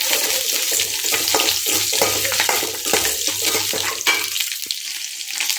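Green chillies, ginger and garlic fry in a pan with a steady, close sizzle, broken by a few stirring scrapes and no talking.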